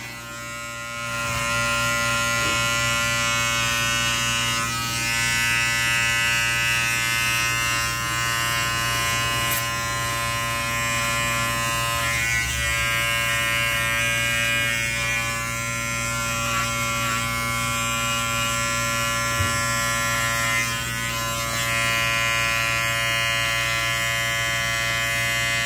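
Electric hair clippers cleaning up a neckline on an undercut give off a loud, steady, close buzz that hums on continuously, with no talk.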